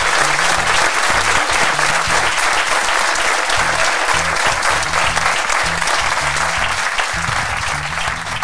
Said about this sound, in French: on peut beaucoup les applaudir encore très très fort